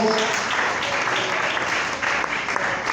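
A church congregation applauds loudly in praise of God, a dense, steady wash of many hands clapping together for the full stretch without letup.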